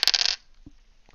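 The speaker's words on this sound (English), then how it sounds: "I like having the dice go through my mic so you guys can hear that" Dice tumbling on a table during a tabletop role-playing game, a brief loud clatter of rattling clicks at the start followed by a couple of faint taps.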